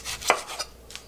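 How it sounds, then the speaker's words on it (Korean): Knife thinly slicing onion on a cutting board, a few quick close chopping knocks in just over a second, with no voices. "조금 얇게 썰어 주겠습니다."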